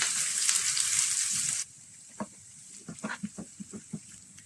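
Garlic and ginger sizzle loudly in hot coconut oil for a crab roast, then the hiss drops away abruptly, leaving quieter scattered stirring taps and clinks.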